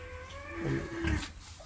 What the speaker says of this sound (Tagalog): Yung aking kalabaw nandoon, umiingay.